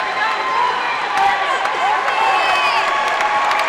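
A basketball crowd at a varsity boys' game cheers and claps, a full, sustained roar with shouts and whistling over the gym noise, while an announcer talks over it.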